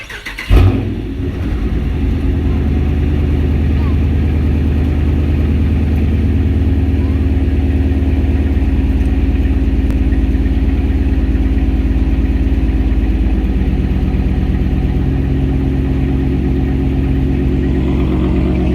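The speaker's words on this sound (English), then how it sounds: "I'm gonna show you guys what it sounds like. A cold start. Well, I guess not cold start, but remote start." Dodge Charger R/T with straight pipes, remote-started, settles into a loud, steady, deep idle after a brief start-up burst, rumbling continuously and close with no talking.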